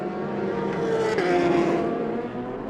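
BMW race car at the 2018 6 Hours of Fuji endurance race, a loud engine roar passing near with a rising and falling pitch sweep as it goes by.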